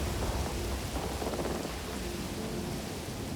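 Heavy rain from a thunderstorm during Cyclone Idai pours down steadily, with a deep rumble of thunder rolling underneath the dense, loud hiss for the whole stretch.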